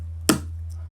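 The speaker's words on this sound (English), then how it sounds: "which is the pencil tap, and it sounds like this" A single pencil tap used as a classroom signal, one short sharp click over a low steady hum.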